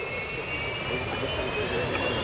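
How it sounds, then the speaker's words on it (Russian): An M-55 Geophysica subsonic high-altitude research jet taking off at an air show, a steady loud roar of engine noise that stays constant throughout with no break. "Now we are seeing the aircraft taking off."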